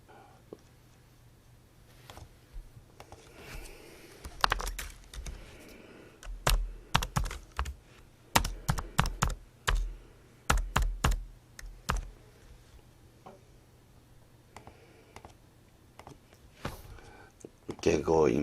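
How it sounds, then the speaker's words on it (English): Rapid computer keyboard typing while a form is filled in for a cremation order, clicking in quick uneven bursts close up, with a low steady hum underneath. "If we start to type in the zip code"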